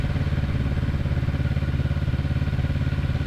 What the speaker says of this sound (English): I'm probably the loudest thing here right now with the motorcycle, so I'm trying to keep in the second gear so it's not too loud